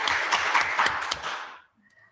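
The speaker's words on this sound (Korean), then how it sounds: "박수 한번 부탁드립니다." An audience applauds after a lecture at an instructor training session. The dense, even clapping lasts about a second and a half, then fades quickly into near silence.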